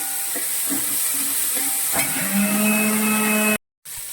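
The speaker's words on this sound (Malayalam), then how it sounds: "കറിവേപ്പില എടുത്ത് വെച്ചിരിക്കുന്ന കൂടി ഇടാവേ. ഇതെല്ലാം നന്നായിട്ടൊന്ന് വഴണ്ട് വരണം." Curry leaves and masala sautéing in hot oil for a Kerala-style beef fry, a loud continuous sizzle and hiss with faint stirring scrapes, briefly cut to silence near the end.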